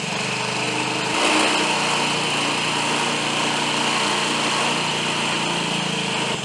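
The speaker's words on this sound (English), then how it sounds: "There you can hear the idle settle down once it warmed up just a bit." A 2005 Honda Metropolitan scooter engine idles steadily after a kickstart, with a continuous, buzzy, high-pitched small-engine hum that stays close and even throughout.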